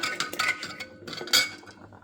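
A ladle mashes cooked dal from a pressure cooker in a metal pot, making a few close, uneven clinks and scrapes against the pot, with no talking.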